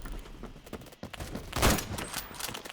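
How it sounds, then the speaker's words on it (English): A grenade goes off in the Roblox shooter Phantom Forces on a close-quarters map, a loud broadband blast at the center among scattered rapid gunshots from the game. "No, that's a grenade."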